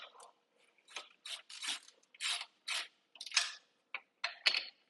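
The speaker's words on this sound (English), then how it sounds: "Step 1 in the installation process is to loosen this bracket. It's a 13mm bolt." A ratchet wrench loosens a 13mm bolt on a bracket of a CFMoto Ibex 800 motorcycle, a close series of about ten quick clicking ratchet strokes in short uneven bursts, with no voices.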